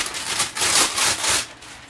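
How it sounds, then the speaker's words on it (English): Parchment paper being torn off a roll in a craft setup, a crisp broadband ripping rustle in a few bursts lasting over a second, fairly close and alone with no talk. "I'm going to rip off a new thing of parchment paper."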